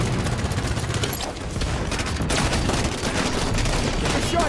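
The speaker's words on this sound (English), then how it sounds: "Shotgun blast. Return fire." Shotgun blasts and rapid gunfire in the video game Halo 5, a dense, continuous barrage of overlapping shots and booms filling the whole stretch at steady loudness.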